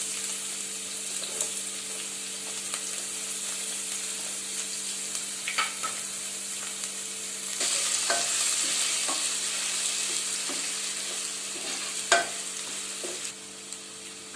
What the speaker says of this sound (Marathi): कांदा हलकासा भाजून झाल्यानंतर